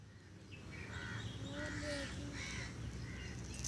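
Crows caw outdoors in a short series of harsh calls at middle distance over a quiet ambient background.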